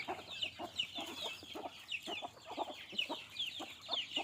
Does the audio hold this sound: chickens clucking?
yes